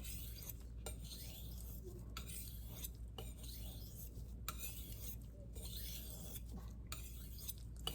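A knife blade is sharpened on a hard Arkansas stone in quiet, repeated rasping strokes, each a soft scrape separated by brief pauses.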